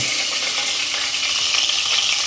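Onions fry loudly in a pan for chicken biryani, giving a continuous dense sizzle with faint crackles and no pauses.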